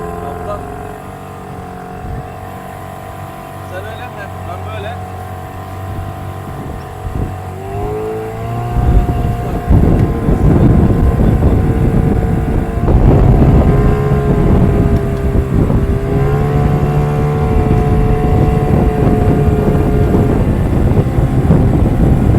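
An inflatable boat's outboard motor idles, then revs up and runs steadily at a loud, droning pitch on choppy sea, with wind buffeting and some voices underneath.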